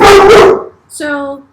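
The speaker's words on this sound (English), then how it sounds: "sorry about our dogs. This is their favorite time of day." Dogs bark excitedly at play, a loud close bark followed by a higher yelping bark after a brief pause, with a voice speaking over the start.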